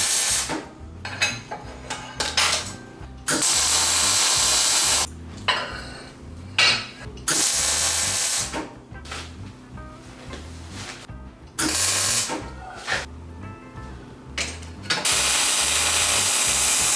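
An angle grinder works a welded steel Z bar in bursts of loud, hissing, high-pitched grinding. Each stretch lasts a second or two and is broken by short pauses and clanking handling noises.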